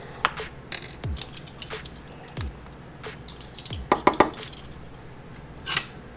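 Small metal measuring spoons clink and knock against each other and a dish while spices such as smoked paprika are measured out for a vegan meal, scattered sharp taps with a louder cluster of rattling near the middle, close and without talk.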